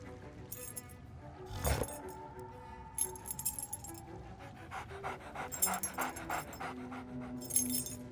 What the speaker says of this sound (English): I'm gonna pet the doggy and get the key.